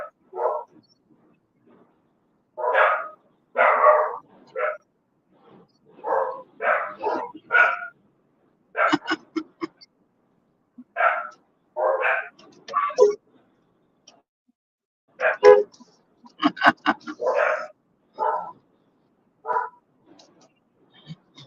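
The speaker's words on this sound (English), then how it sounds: "dogs are going crazy" Dogs bark close by in repeated bursts and short volleys for about twenty seconds, with brief pauses between clusters, heard from a car on a drive home.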